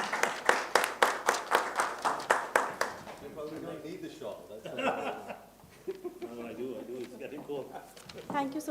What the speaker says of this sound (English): A huge round of applause for Shri Ved Prakash sir.